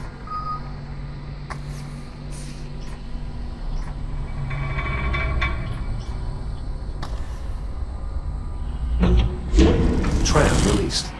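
A tram releases in the VR space game Lone Echo 2, with a steady mechanical hum and rumble, scattered beeps, and a louder clanking surge of machinery near the end.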